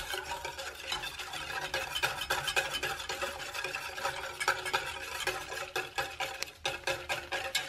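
A dessert mixture is stirred in a pot with a utensil, a steady run of soft scraping and clicking strokes against the cookware, close and fairly quiet, with no talking.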